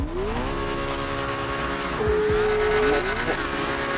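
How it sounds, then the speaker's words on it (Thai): A car engine with a loud exhaust revs up and down several times in short sweeps, near and forceful, with a brief steady hold and faint tire-like squeals in the background. "ให้ลุงลุงลองเบิ้ลหน่อยได้ไหมครับลุง"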